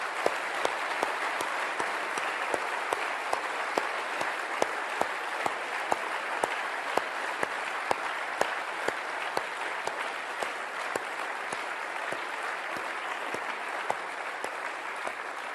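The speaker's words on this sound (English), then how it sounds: "give you, as a present coming from our heart, a big round of applause" An audience at a formal economic address by the Fed chair gives a long, sustained round of applause, dense and even throughout with sharper individual claps popping out, steady and unbroken with no talking.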